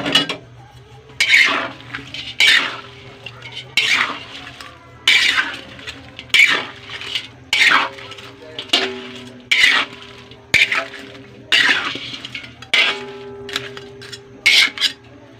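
A spoon stirs food in a metal pot, giving repeated clinking scrapes in a steady rhythm of about a dozen strokes, close and clear with quiet gaps between them.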